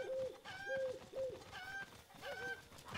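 A pigeon-like bird coos repeatedly in Zelda: Breath of the Wild, soft rising-and-falling calls in a steady rhythm, fairly close and alone with no talking.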